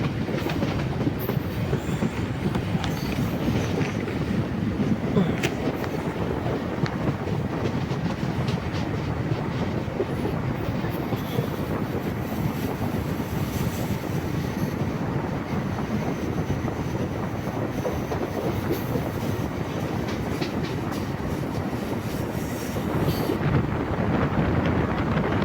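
A MEMU commuter train runs steadily between Kollam and Kottayam, its broad continuous rumble and rail noise holding at an even level throughout, with faint clicks of wheels over joints and some wind buffeting.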